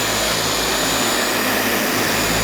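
Liquid Elements polisher spinning at setting 3, about 3,200 RPM, on a polish-covered surface: a steady, loud broadband whir with a faint constant high whine, unbroken and alone for the whole stretch.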